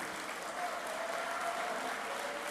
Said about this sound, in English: Well, that's just a warm-up. The main applause is coming.